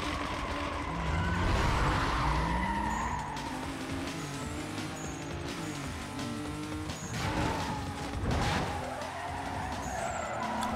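Tires skid and squeal repeatedly from a Mitsubishi in the racing video game Need for Speed Most Wanted, with engine roar underneath and several long screeching slides throughout.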